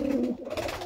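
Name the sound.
Kalanka pigeons cooing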